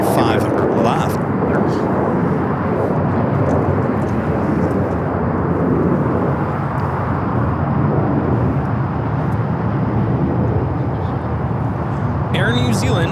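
An Air New Zealand Boeing 777-300ER jet on short final for landing at LAX, arriving from Auckland, as a steady, loud broadband roar of engines and rushing air that holds for the whole stretch.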